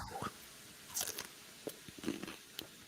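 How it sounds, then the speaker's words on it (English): Someone bites into crunchy food, giving a few sharp, close crunches spread over a few seconds, with light chewing crackles between them. "That's a loud crunch."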